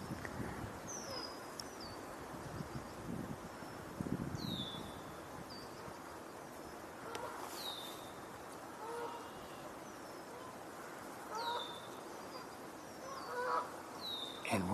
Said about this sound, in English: And we're hearing Canada geese.